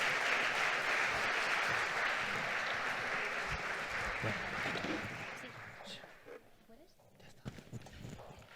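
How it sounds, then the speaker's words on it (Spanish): Audience applause at a conference panel on electrical solutions for decarbonisation: dense, steady clapping from a seated crowd that thins and fades out over the last few seconds. "Recibámosla, por favor, con un fuerte aplauso."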